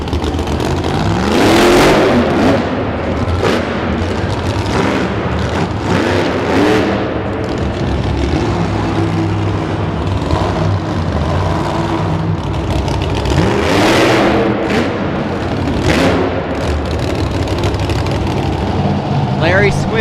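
A drag car revs hard at a wheelie competition on the floor of Kemper Arena in Kansas City, loud, roaring bursts rising and falling over a noisy crowd-filled hall.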